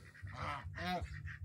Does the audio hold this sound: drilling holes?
no